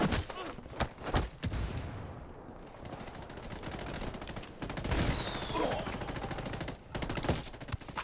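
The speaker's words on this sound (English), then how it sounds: "Mortar fire." Mortar fire in Ghost Recon Wildlands at a cocaine resort, heard as bursts of gunfire and thumping impacts over steady battle noise, with a voice talking at times.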